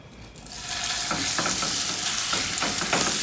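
A meat mixture for Vietnamese egg rolls fries and sizzles in a non-stick pan, a steady close hiss with occasional stirring scrapes, loud and continuous without talk.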